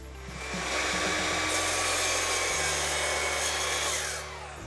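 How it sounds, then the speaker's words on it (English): A shop vac keeps running steadily on its own for several seconds after a power cutting tool in an i-Socket workshop setup stops, a loud, even motor whine with a brief tool rattle at the start and a fade near the end. "You'll notice the shop vac stays on for another 7 seconds after I stop cutting."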